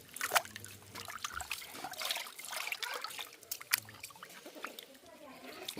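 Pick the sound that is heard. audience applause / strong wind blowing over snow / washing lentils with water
washing lentils with water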